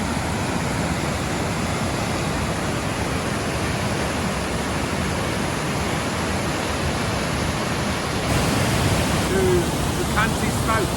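A Perthshire waterfall in March gives off a steady, dense rush of falling water, loud and continuous, swelling slightly toward the end.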